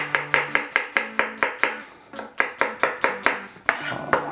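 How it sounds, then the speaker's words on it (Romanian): A kitchen knife chopping asparagus into short lengths, plus mushrooms and red onion, for savory crepes at home: steady, close board knocks in a quick even rhythm, with a brief pause before the cutting resumes, no talking. "Le tăiem mărunt, mărunt, sparanghelul cam la 2-3 cm lungime"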